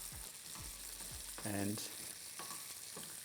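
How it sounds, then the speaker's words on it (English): Almonds sizzle steadily as they fry in a pan, a low continuous crackle with a few soft knocks and stirring sounds, and one brief spoken word over it. "sizzling away"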